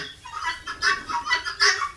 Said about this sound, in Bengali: এটা হচ্ছে অরিজিনাল পুরুষ পাখি ছেলে পাখি